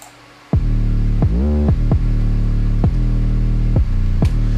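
Loud, deep 808 bass notes programmed in FL Studio: several punchy hits, each sustaining a booming tone, with one note gliding smoothly up in pitch partway through.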